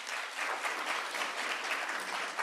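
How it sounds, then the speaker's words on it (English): Audience applause at a business presentation, a steady wash of clapping from a crowded room sustained for the whole moment, with no voices on top. "I will accept that round of applause."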